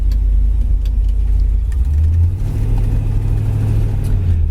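A 1969 Chevrolet Nova SS V8 runs loud and close, a steady rumbling idle that swells into a deeper rev partway through, with no talking over it.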